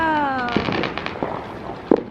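Neighbourhood Independence Day fireworks in Utah bang and crackle in a quick irregular series, one louder burst near the end, while a person speaks over the first part.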